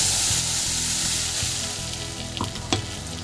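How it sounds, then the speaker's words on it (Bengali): Thankuni leaf paste hits hot oil tempered with dried chilli, a loud close sizzle and crackle with rhythmic stirring and a few sharp pops as it settles. "এবার আমি থানকুনি পাতার এই পেস্টটা দিয়ে দিচ্ছি।"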